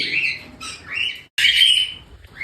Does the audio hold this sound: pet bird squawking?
yes